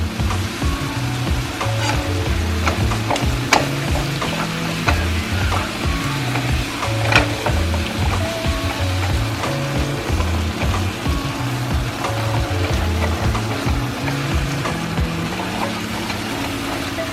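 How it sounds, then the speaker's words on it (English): Meat seasoned with black pepper browns in a pan over mid heat for chili. It gives a steady, dense sizzle with crackling pops and no voices. "Allow the meat to brown for 5 minutes"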